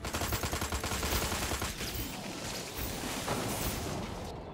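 Rapid bursts of gunfire fill a Destroy All Humans! game scene, loud and dense for several seconds with machine-gun-like rattles and blasts that keep going without a pause.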